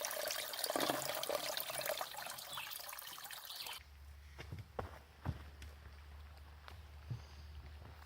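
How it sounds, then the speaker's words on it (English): Water flows from the Fountain of Youth mountain spring on the Appalachian Trail, a continuous bright rushing trickle, then a quieter stretch with a low hum and scattered soft knocks and steps nearby. "I'm going to get some water from this spring over here."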